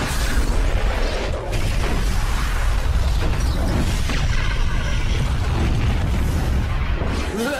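A cartoon explosion as the villain Neutron blows up: a loud, sustained roaring rumble with dense crackling debris that fills the whole stretch and fades slightly near the end.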